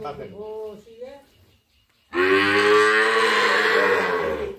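A Sahiwal bull calf at a livestock market gives one long, loud, close moo lasting about two seconds, after a brief stretch of voice-like sound and a short lull.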